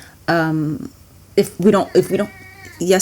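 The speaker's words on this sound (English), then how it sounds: "that's my cat" A pet cat named Casper gives a clear drawn-out meow close by, while a person speaks briefly in the moments that follow.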